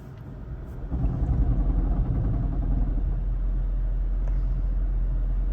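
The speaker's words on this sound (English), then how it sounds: "when the gas motor starts, it makes a rattle like this" The gas engine of a Toyota Prius with a bad head gasket kicks in and rattles roughly as it starts, then settles into a loud, uneven rumbling idle close by.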